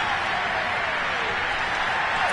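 A large football stadium crowd roaring and cheering after a touchdown, a dense, sustained wash of voices and applause filling the whole stretch at steady loudness, close and enveloping.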